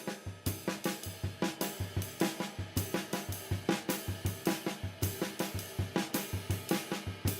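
Eighth-note triplet drum figure with two strokes on the snare and two on the bass drum, repeating in a steady, loud, dense pattern of close hits with cymbal wash over the full length, no talking.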